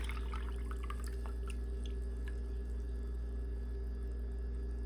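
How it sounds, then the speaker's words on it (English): Liquid from canned jackfruit drains into a cup in a steady trickle with small drips, heard close over a constant low background hum. "here's another can of jackfruit. I'm gonna do the same. I'm gonna drain it in the same cup."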